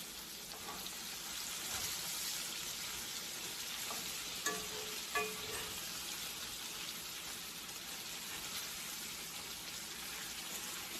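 Crispy tilapia nuggets fry in a pan with a steady, soft, hissing sizzle throughout, broken by a couple of faint clicks from a utensil, and no one speaks.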